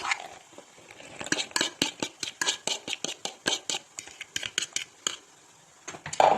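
A utensil stirring Korean-style carrot and corn salad with braided cheese in a bowl, giving a quick even run of about twenty scraping, clinking strokes that stop briefly near the end, close and fairly soft with no talking.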